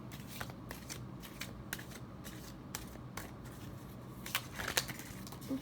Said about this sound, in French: Oups, alors là, si les cartes tombent.